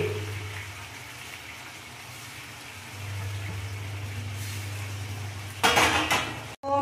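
Mashed cauliflower stem paste being stirred in a pan, a low steady hum and soft scraping of utensil against pan, ending in a brief louder clatter near the end.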